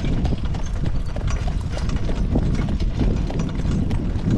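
Horse hooves clip-clop in a quick, even rhythm at a training session, loud and close, with a dense steady patter of beats throughout.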